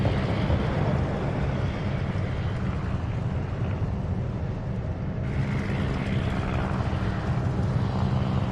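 A fighter aircraft launches from a warship in a naval video game, giving a steady roaring engine drone that stays loud and even throughout, with a slight shift partway through.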